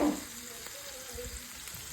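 Bratwurst sausages frying in a pan with butter, giving a soft, steady sizzle after a brief louder clatter at the start, faint and continuous throughout.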